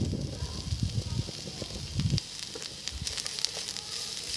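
Chopped onion dropped into two spoons of hot cooking oil in a preheated pan, giving a steady close sizzle with crackling bursts that ease off to a softer, thinner hiss.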